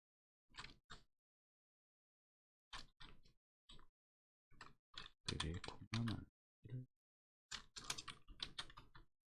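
Keys on a computer keyboard are pressed in short clusters and single clicks separated by pauses, close and fairly quiet, as Ctrl, Shift and arrow keys are used.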